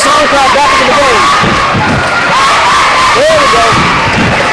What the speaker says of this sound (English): Madison Clippers got to quiet this visiting crowd and get this home crowd back into the game.